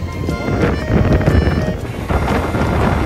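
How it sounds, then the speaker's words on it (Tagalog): Strong wind buffets the microphone in loud, rumbling gusts at Tokyo DisneySea theme park, with a busy outdoor background faintly underneath. "Sobrang lakas ng hangin ngayon."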